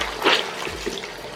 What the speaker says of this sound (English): So you have to rinse it till no more bleach is left.